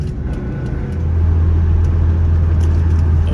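A 1978 BMW 320i E21 drives along with a steady engine drone, its tone shifting and rising in loudness about a second in as it downshifts, heard from inside the car without talk.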